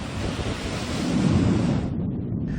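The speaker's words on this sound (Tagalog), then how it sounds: "lumakas ang hangin at lumaki ang mga alon sa Municipal Fish Landing sa bayan ng Pio Duran sa Albay" Strong typhoon wind and crashing waves batter the municipal fish landing in Pio Duran, Albay, in a loud, continuous roar with wind buffeting the microphone, which cuts off abruptly near the end.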